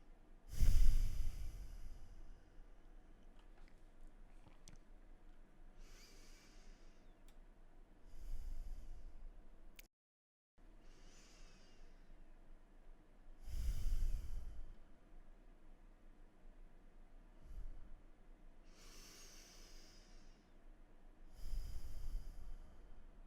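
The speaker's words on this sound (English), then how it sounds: "Breathe deeply here as we are breathing this tension out from the" Slow, deep breaths during a beginner yoga stretch for lower back and sciatica, drawn in and released in a few soft, close cycles with quiet gaps between them. The exhales come out as breathy sighs.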